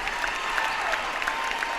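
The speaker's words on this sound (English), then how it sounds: "Standing ovation from this crowd." After a home playoff win in a high school varsity boys basketball game against Gretna, a gym crowd on its feet claps in a continuous, even wash of applause with scattered louder claps, and nobody speaks.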